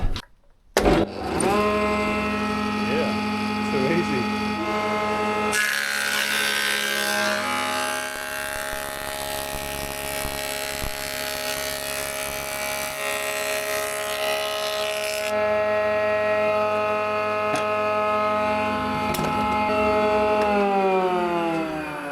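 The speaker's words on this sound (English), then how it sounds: "It's a 15-inch Polytech thicknesser." A 15-inch Polytech thicknesser runs continuously, its motor hum steady with strong harmonic tones, and grows louder and harsher for several seconds as it planes a 6-inch board, then settles back to an even running drone.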